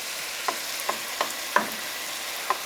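Cabbage and kielbasa frying in a pan over medium-high heat, with a steady soft sizzle and a few sharp crackles and pops spaced irregularly, close by and without speech.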